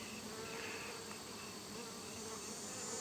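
Honey bees swarm and buzz loudly and continuously around an opened hive during a winter readiness inspection, a dense steady drone with no pauses.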